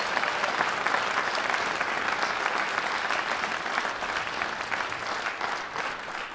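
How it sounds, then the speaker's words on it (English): An audience at a ukulele orchestra's holiday kick-off concert in Lakewood gives sustained, even applause, many hands clapping in a thick unbroken wash for several seconds. "Can I get one more round of applause for our awesome small groups?"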